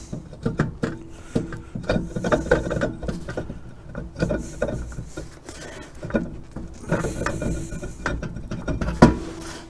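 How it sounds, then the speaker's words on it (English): A brake rotor is worked off the hub of a 2007 Acura with repeated scraping, knocking and rubbing metal sounds in irregular bursts, up close, and no talking. "Now let's pull this rotor off."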